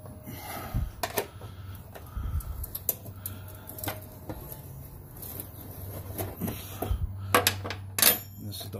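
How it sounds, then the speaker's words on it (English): Metallic clinks and taps of a 10mm wrench working a bolt loose on a Trans Am, scattered close clanks over a low background hum. "I'm going to take this bolt out."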